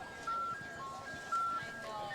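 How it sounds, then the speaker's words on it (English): The Blue Moo ice cream truck plays its musical bell and chimes at the Brooklyn Park Tater Daze Parade: two clear sustained tones sound faintly over a soft outdoor crowd murmur. "That is certainly a familiar sound during the summer, that little musical bell and the chimes."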